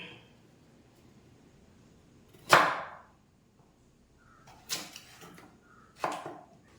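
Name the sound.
chopping carrots with a knife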